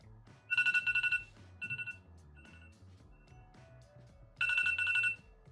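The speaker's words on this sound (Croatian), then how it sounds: "Evo sad ćemo recimo da testiramo alarm, naviću za koji minut da zvoni da vidimo kakve su vibracije" Alarm on a Kronos 4 Plus smartwatch ringing in three bursts of bright, repeating electronic beeps, two close together near the start and a longer one near the end, quiet in between with no talking.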